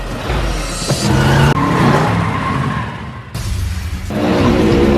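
Race cars in a film's car race roar past at high speed, a loud sustained engine drone with abrupt cuts between shots and sharp tire-squeal bursts.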